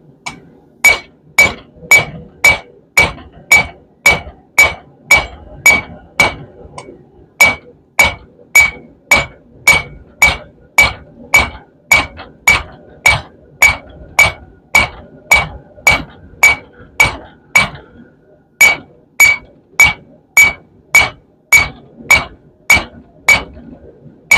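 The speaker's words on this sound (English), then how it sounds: "so I'm drawing it out, we can do it over the horn of the anvil" Steel for a hand-forged steak flipper with a bottle-opener handle is hammered over the horn of an anvil: a long, steady run of about thirty loud, ringing metallic blows in even rhythm, with brief pauses and no talking.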